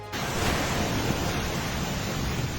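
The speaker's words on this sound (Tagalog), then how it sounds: "nangangalit ang alon sa dagat" Rough sea surf pounding the coast of Aurora during Typhoon Pepito, a continuous loud roar of crashing waves mixed with wind buffeting the microphone, with no voices.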